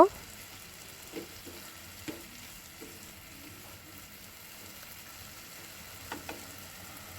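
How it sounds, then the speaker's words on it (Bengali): Mixed vegetables stirred and fried in a pan, giving a soft, steady sizzle broken by occasional spoon knocks against the pan. "তাই নেড়ে চেড়ে আর পাঁচ সাত মিনিট একটু রান্না করে নেব"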